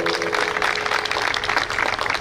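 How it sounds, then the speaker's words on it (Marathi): An audience at a kirtan program applauds loudly and continuously, a dense wash of clapping that fills the whole moment with no talk. "टाळ्या वाजवा एकदा जोरात"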